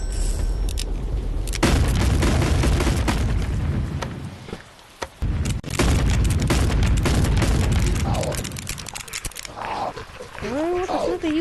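Gunfire in the zombie-themed VR game Animal Company comes as dense bursts of booming shots over roaring game creatures, loud and close, with a pause in the middle and people talking throughout.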